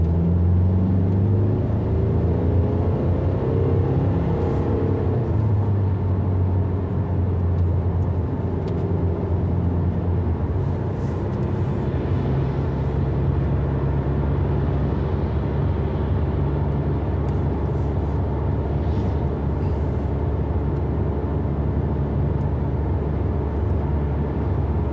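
A car engine pulls away and accelerates, held in a lower gear at higher revs; a steady, close, loud rumble with rising engine tones early on, then an even drone with no talking.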